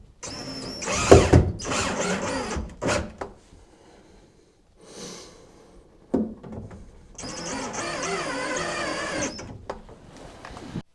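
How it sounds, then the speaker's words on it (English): A power driver whirs in short bursts as three screws go into a kitchen cabinet mounting against a wall, with a pause between runs and some light handling noise. "I just need to put these 3 screws in"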